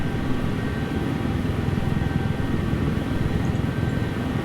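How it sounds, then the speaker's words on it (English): A helicopter drones steadily in a desktop flight simulator game, a constant engine and rotor hum with no breaks, moderately loud and alone. "So we are back in the helicopter."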